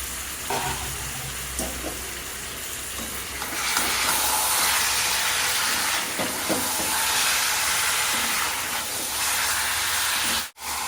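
Chicken goes into spiced masala frying in oil, and the gentle background sizzle swells into a louder, sustained hissing fry with a few faint stirring knocks, ending in a brief cut.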